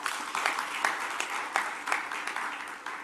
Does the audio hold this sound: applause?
yes